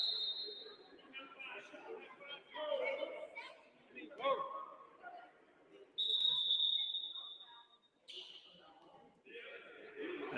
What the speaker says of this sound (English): Another whistle on the floor.